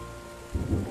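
Thunderstorm rain in the game Terra Nil, a steady hiss of rainfall joined midway by a low rolling rumble of thunder, brief and close.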